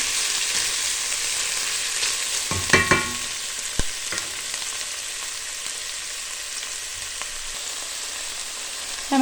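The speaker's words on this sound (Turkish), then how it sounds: "sarımsaklarımın kokusu çıkar çıkmaz kapya biberlerimle yeşil biberlerimi koydum arkadaşlar" Red and green peppers frying in a pan with garlic give a steady, moderately loud sizzle, with a few brief stirring scrapes and clinks partway through and no voices.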